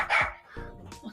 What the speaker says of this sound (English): Now we're making other people's dogs bark.